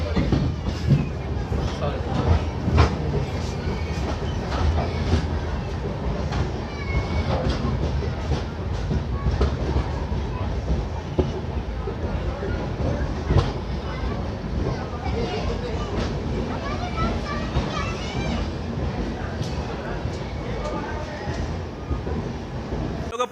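The 14033 Jammu Mail rolls into Kurukshetra railway station, rumbling with clattering wheels and rail clicks, while voices and station babble run over the loud, continuous train noise.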